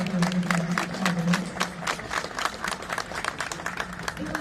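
An audience at a bicycle festival inside the Turkish parliament claps in a loose, rapid patter, moderately loud, with a voice murmuring beneath the clapping.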